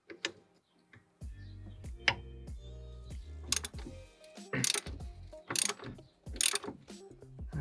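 Ratchet undoing a pinch bolt on an R56 Mini Cooper strut during a coilover install, heard as close ticking strokes that build into loud, sharp bursts of clicking toward the end.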